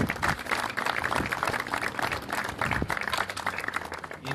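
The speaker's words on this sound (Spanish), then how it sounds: "le brindamos un fuerte aplauso" Crowd applause at a tennis awards ceremony honoring the tournament runner-up, a steady wash of clapping that fills the whole stretch at moderate loudness with no clear pauses.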